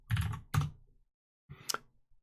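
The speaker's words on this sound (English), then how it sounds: "You can verify that you have Java installed by typing Java" Computer keyboard keys click and clatter close up as a command is typed, a few quick bursts of keystrokes separated by short pauses, with no talking.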